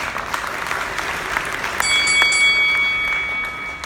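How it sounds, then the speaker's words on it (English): Round of applause from an audience at a presentation event, a dense continuous clatter of many hands, with a bright ringing tone entering partway through. "I think that deserves a round of applause."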